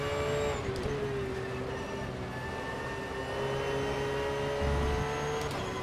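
A McLaren race car passing at speed, its engine a sustained high whine with gliding pitch that holds steadily over a continuous mid-distance roar.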